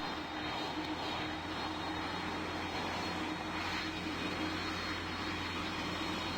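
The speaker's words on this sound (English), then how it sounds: "As the last flight, we have an Boeing 747-400F cargo plane from UPS." UPS Boeing 747-400F cargo plane in a flight simulator, producing a steady, broad engine roar that holds at an even loud level without pause.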